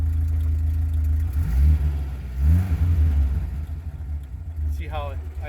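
A 1975 Porsche 914 with a 1.8 engine idles close by, its low rumble swelling in a couple of brief revs before settling back to a steady idle, with a voice heard at times.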